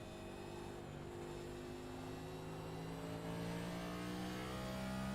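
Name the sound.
race car throttle on corner exit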